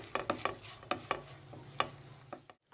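Ginger garlic paste being stirred into a pan mixture for an egg stick fry: a series of separate scraping, clinking strokes with a spoon, close and moderately quiet, under a steady low hum, ending in brief silence.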